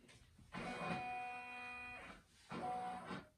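An embroidery machine hums and whirs as it traces the outline of a hoop holding a beach towel, in two motor runs with a short pause between, steady and fairly quiet.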